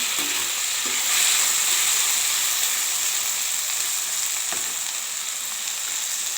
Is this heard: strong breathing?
no